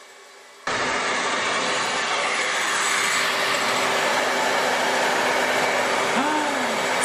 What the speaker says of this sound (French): maintenant toi, tu vas le sécher avec le sèche-cheveux pour voir ce que ça donne